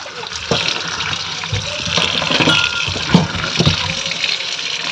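Cut potatoes and chopped onions are washed in water, a loud, continuous close-up sloshing and pouring with scattered splashes throughout, no voices.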